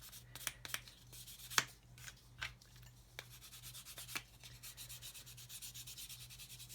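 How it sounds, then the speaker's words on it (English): A fine blue polishing stick works over the plastic of a 1/32 Airfix Humber scale model, giving soft, close rubbing strokes with a few sharper scuffs that settle into a steady rhythmic scrub under a faint low hum. "this is a really fine, very fine blue polishing stick"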